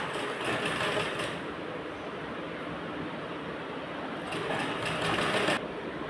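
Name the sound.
sewing machine stitching lace onto a blouse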